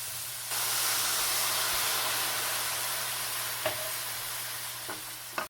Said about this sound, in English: Now we're going to add the wine.